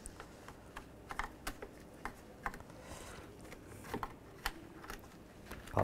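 A trim tool pops plastic push pins out of the front-end panel of a 2011-2015 Chevy Cruze, producing scattered sharp clicks and small plastic snaps, close and quiet with no talking.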